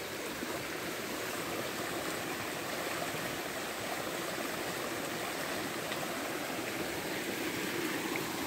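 A swollen stream, running fast after a night of heavy rain, rushes in a loud, unbroken roar of churning water, steady and close with no voices.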